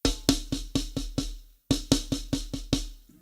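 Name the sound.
drum paradiddle-diddle rudiment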